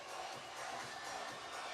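An indoor soccer crowd in Milwaukee roars and cheers in a dense, continuous wash of voices, loud and sustained throughout a short burst.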